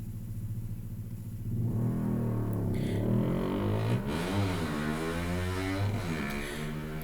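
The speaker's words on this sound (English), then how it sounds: "Boy, what a big exhaust pipe you must have." A vehicle with a loud exhaust passes by, a deep rumbling engine note that swells and shifts in pitch as it goes past, close and fairly loud.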